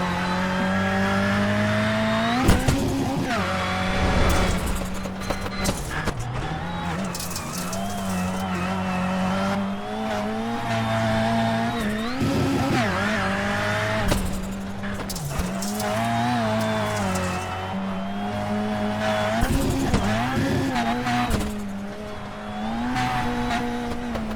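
Onboard a NASA Rallycross Lites car lapping the Wild Horse Pass course, the engine drones and revs loudly throughout, dipping and climbing through shifts and corners with bursts of tire scrabble and gravel noise.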